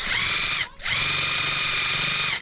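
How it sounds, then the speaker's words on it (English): A power drill backs screws out of 4x4 timber with a loud, high, steady whine close by, briefly cutting out for a moment before running continuously again. "It's really important that I get to extract these screws."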